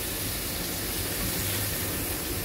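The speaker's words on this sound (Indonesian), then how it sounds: "Ini lanjut menggoreng lagi" Food frying in a wok gives a steady, dense sizzling hiss that fills the whole moment at close range without letup.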